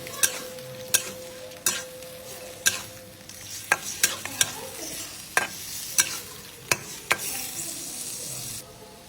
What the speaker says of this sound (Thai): น้ำตาลทรายเสร็จแล้วก็ผัดทุกอย่างให้เข้ากันค่ะ